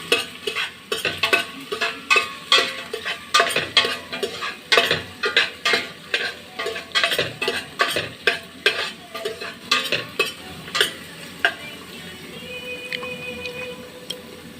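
Onion and garlic sauté in a pan toward browning for a Bicolano-style chicken afritada, with rhythmic scraping stir strokes over a soft sizzle, repeated steadily, then quieter frying with a faint tone near the end.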